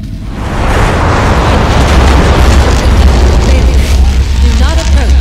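An explosion in the video game Dead Effect 2, a loud deep boom swelling into a sustained rumbling roar with crackling debris, alongside a voice.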